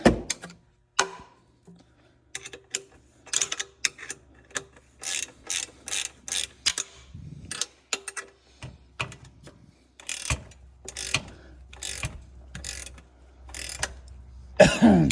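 A hand ratchet tightens the catalytic converter bolts on a 2011–2020 Dodge Grand Caravan or Chrysler Town & Country. Close, sharp clicking comes in repeated short bursts with brief pauses, and no one speaks.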